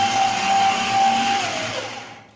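A food processor grinds raw chicken meat for chapli kebabs, a loud steady motor whine that holds then drops in pitch and fades as the blades spin down.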